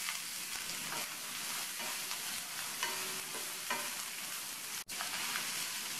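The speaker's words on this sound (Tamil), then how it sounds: "இது கூட கட் பண்ணி வச்ச 1/4 கிலோ முள்ளங்கியும் சேர்த்து வதக்கிக்கலாம்" Chopped radish with curry leaves being sautéed in hot oil, giving a continuous dense sizzle close up, with regular scraping stirs throughout and one brief dropout near the end, and no voices.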